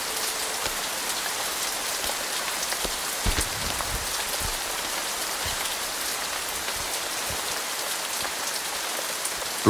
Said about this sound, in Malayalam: എന്താ ഒരു മഴ?